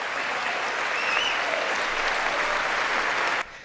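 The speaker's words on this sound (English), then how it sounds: "everyone's got to stand up and clap" Sustained applause from a large audience at the 2019 State of the Union address, a dense, steady roar of clapping held at full strength before cutting off abruptly near the end.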